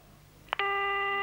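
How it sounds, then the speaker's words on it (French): A phone line gives a short click and then a steady electronic ringing tone that holds evenly, close and unaccompanied. "Deuxième sonnerie."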